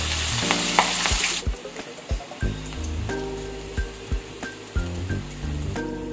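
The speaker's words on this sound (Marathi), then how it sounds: "जिथे आपल्या मिरच्या छानपैकी तळल्या गेलेल्या आहेत" Green chilies sizzle and crackle in hot oil while frying for a thick poha chivda, with steady close frying hiss and intermittent stirring knocks against the pan, no voices.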